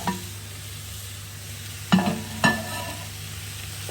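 Swordfish frying in a pan with a low, steady sizzle, broken by two sharp clatters of a utensil against the pan, no speech.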